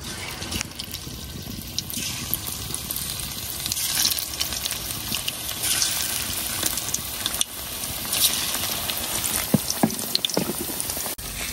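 Cauliflower pakoras frying in hot oil, a dense continuous crackle and sizzle with scattered sharper pops, close and steady throughout.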